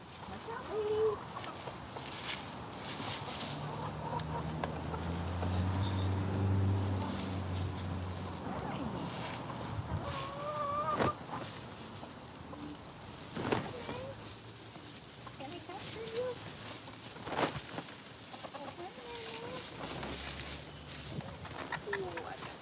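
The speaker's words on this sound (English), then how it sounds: "She's a Sarama chicken, and they are one of the tiniest breeds of birds." Tiny Serama chickens cluck and chirp in short, scattered bursts, kept at low volume beneath a person talking throughout.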